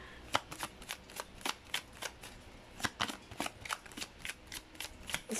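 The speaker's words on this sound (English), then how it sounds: "a lot of cards though, so let me shuffle again" A thick deck of tarot cards shuffled close up, with crisp papery riffles and slaps arriving in a quick, fairly even rhythm, loud and alone.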